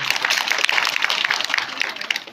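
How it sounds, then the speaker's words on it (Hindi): A crowd at a village gathering in India gives loud, sustained applause, dense overlapping claps continuing evenly throughout without any speech. "इनके लिए एक बार फिर से जोरदार तालियां होते हैं"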